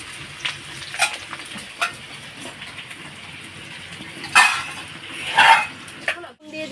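Potatoes and shrimp sizzle and crackle steadily in a hot pan, with occasional louder scraping bursts from stirring, close up and continuous.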